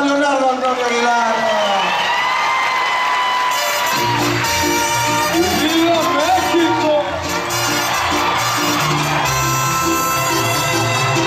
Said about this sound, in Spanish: ¡Fuerte aplauso para Leonardo Antonio Aguilar!